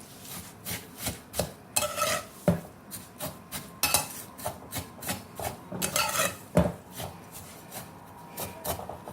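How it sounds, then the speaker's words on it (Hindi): Vermicelli being roasted and stirred in a pan over a medium flame, a spoon or spatula scraping and rasping against the metal in a steady run of short, close strokes, with no talking. "अब इसे हमें कंटिन्यू घुमा घुमा कर भूनते जाना है, लाल करते जाना है।"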